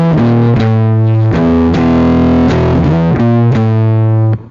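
Distorted electric guitar plays an intro riff, loud and close, with struck chords and ringing notes in a steady repeating pattern, no voices.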